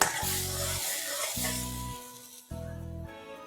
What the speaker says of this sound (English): we'll add this paste. Let's cook it on slow flame.